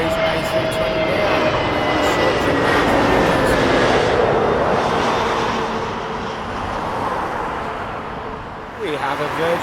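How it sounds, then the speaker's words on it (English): A British Airways Airbus A320neo jet at London Heathrow makes a loud, whining engine roar with tonal drones that fade somewhat as it passes, and a voice briefly cuts in near the end. "we have a Neo from Newcastle, British Airways A320 Neo"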